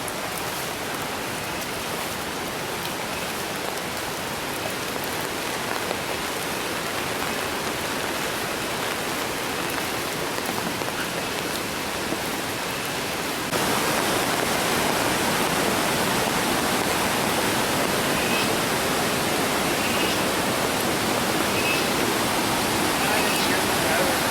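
Irpu Waterfalls in Coorg, swollen by heavy rain, roaring as a continuous broadband rush of falling water that grows louder and closer partway through.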